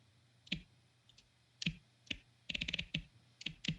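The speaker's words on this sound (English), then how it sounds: "typing on a phone, but you'd never know it because those key clicks sound legitimate" Rapid crisp key clicks from typing on a phone keyboard, coming in short irregular bursts and quick runs of taps, close and fairly quiet, with no talking over them.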